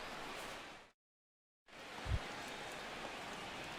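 Rain falls over a baseball stadium in the video game MLB The Show 16, heard as a steady, soft broadband hiss that cuts out completely for under a second before resuming.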